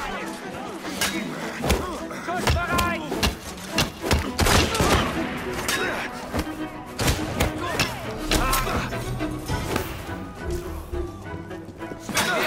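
Rapid bursts of gunfire and crashing impacts fill a busy, noisy scene in the video game Assassin's Creed Syndicate, with shots overlapping and repeating throughout.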